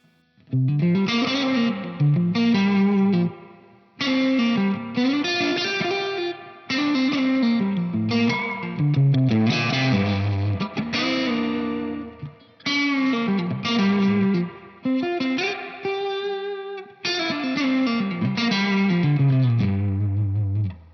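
An electric guitar plays phrases of picked notes and chords through a TC Electronic Combo Deluxe 65 amp pedal with the reverb tone control at maximum. The phrases are loud, with brief gaps between them, and no one speaks.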